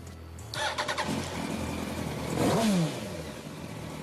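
A motorcycle engine being tested before a ride: it sputters into life with a few chugging pulses, idles steadily close by, then gives one short rising rev before settling back.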